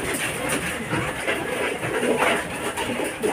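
Racing pigeons coo steadily at a derby loft, with a soft, continuous murmur of birds close by.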